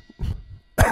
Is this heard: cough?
yes